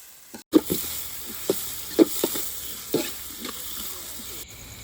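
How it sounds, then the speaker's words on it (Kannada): Soft sizzling of onions frying in a pan for pepper chicken fry, with repeated scraping and stirring strokes of a utensil at an irregular rhythm. "ನೀರುಳ್ಳಿಯನ್ನು ಫ್ರೈ ಮಾಡಿ ಹಳದಿ ಬಣ್ಣಕ್ಕೆ ಬರೋ ತನಕ ಹೀಗೆಯೇ ಮಿಕ್ಸ್ ಮಾಡ್ತಾ ಇರಬೇಕು"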